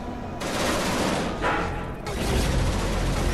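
Ship-mounted guns rattle in a dense, loud burst of rapid fire in the space game Genesis Alpha One, a sustained volley with a brief lull before it resumes, close and continuous.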